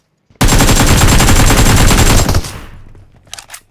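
Gunfire in a battle royale video game, a very loud, close burst of rapid automatic fire lasting about two seconds, then fading with a couple of softer trailing thumps.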